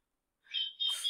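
Electronic bird-song chime from a clock marking the hour, a short high chirping trill starting after a moment of silence, faint and clean.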